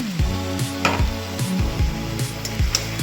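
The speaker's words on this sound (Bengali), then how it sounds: "এবার আমি এই পেস্টটা মাটনের মধ্যে দিয়ে দেবো।" Masala paste of dried chilli, ginger and tomato added to mutton in a hot pan, giving a loud, close sizzle with repeated scraping and stirring clatter, no speech.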